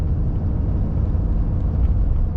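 A RAM 2500 pickup with the 6.7 Cummins diesel pulls up a hill in fourth gear, giving a steady, loud low-pitched rumble from inside the cab that stays even throughout.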